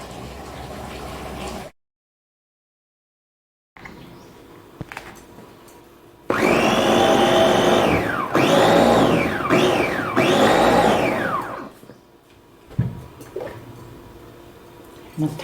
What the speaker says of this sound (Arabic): نطحنا الاخره لينا ديال البصله معاكم